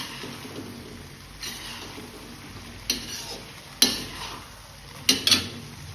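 Fried gobi manchurian tossed in a kadai, quiet sizzling under a few sharp metallic clanks of a spoon against the pan.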